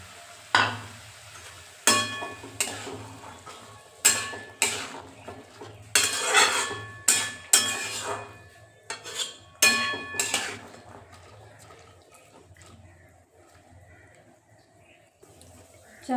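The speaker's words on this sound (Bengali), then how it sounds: "একসাথে মশলাটার সাথে চানাটাও দিয়ে দিচ্ছি, একসাথে এটা কষে যাবে চানাটা মশলার সাথে" Boiled chickpeas and potatoes are stirred with spices in a pan, with a spoon scraping and clanking against the metal in irregular bursts and a faint sizzle beneath, trailing off into quiet.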